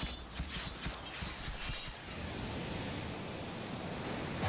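Water Breathing Dead Calm attack effect from the Demon Slayer: The Hinokami Chronicles fighting game, a loud, steady rushing wash of water-like noise that follows a few sharp hits at the start and swells at the end.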